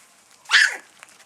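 A Havanese puppy gives a single short, high yelp, a quick bark that trails into a whimper, close by and alone against a quiet background.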